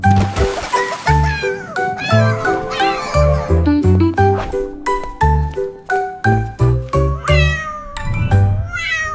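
A sung melody imitating a cat's meow, with repeated meow-like vocal notes over tinkling music, loud and close.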